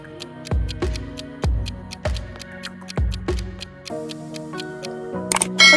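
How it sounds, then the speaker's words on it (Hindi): Typewriter keys tick in a steady run of crisp strikes, each paired with a low thud, close up and without talk. "और ये है टाइपराइटर।"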